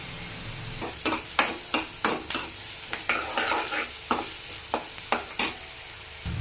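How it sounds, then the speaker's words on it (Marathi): Chopped onion sautéed in a pan, stirred with a utensil that scrapes and knocks in a regular rhythm of sharp strokes over a low sizzle, with no talking. "आता हलवायचं चांगलं ब्राऊन होईपर्यंत परतायचं"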